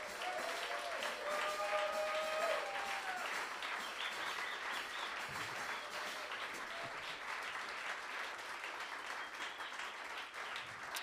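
Concert audience applauding an alto saxophonist at a live jazz show in Leipzig, a steady wash of many hands clapping, strongest in the first few seconds then holding on evenly, with faint instrument tones briefly at the start.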